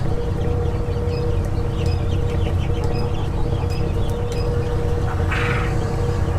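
Chickens, including Bresse hens, and turkeys in a poultry pen cluck and call over a dense, steady farmyard din, with a brief louder squawk near the end.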